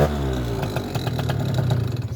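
A Peugeot 50 Citystar moped fitted with a PWK 28mm carburettor and Piaggio reed valves idles steadily without throttle, a loud, close, low putter with light mechanical clatter and no voices.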